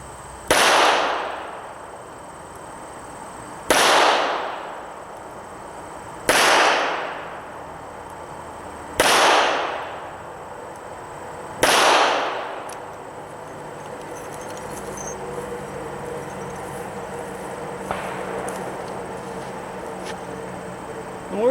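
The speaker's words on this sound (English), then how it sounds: "I'm going to shoot at this area here" An S&W 340 SC .357 five-shot revolver fires 158-grain rounds at a target from about 10 meters. Five loud, sharp reports come about three seconds apart, each followed by a ringing decay, and quiet ambience follows.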